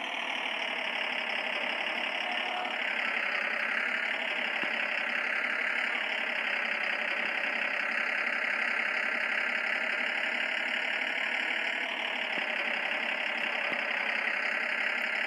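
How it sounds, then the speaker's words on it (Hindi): Truck engine in an Indian cargo truck simulator video game, idling with a steady, loud, knocking mechanical drone that holds without a break throughout. "अब इंजन भी स्टार्ट करना होगा"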